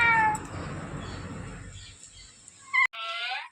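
A domestic cat meows a few times, near and clear, with a brief short call near the start and a longer drawn-out meow at the end over a quiet room.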